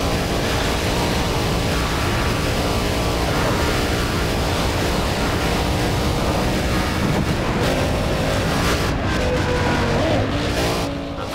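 Lamborghini Miura Concept in Need for Speed World at high speed, a loud continuous engine roar with steady wind rush and no talking.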